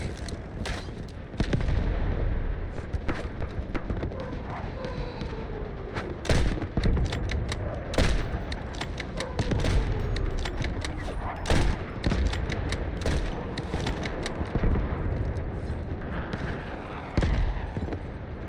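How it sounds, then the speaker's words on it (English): Artillery barrage in a video game: dense, continuous booming blasts and crackling impacts, loud and close, with rapid repeated hits building and falling over the whole stretch. "Artillery barrage incoming."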